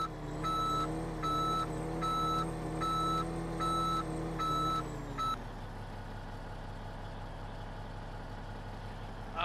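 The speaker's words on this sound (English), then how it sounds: "back our truck up." Truck reversing beeps from Farming Simulator 2015 sound as a steady series of regular electronic tones over an idling heavy engine and stop after about five seconds, leaving a low engine rumble.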